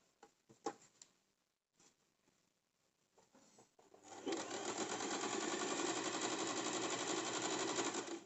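A sewing machine stitches two pieces of cigar pant fabric together with a half-inch seam margin. It starts with a few short bursts, then settles into a steady, loud, continuous whir of stitching that runs through the end.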